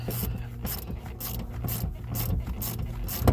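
A ratchet removing the rear bolts that hold a car seat, one on each side, inside a vehicle interior: repeated short bursts of fast clicking ratchet strokes, close and fairly loud, with no talking.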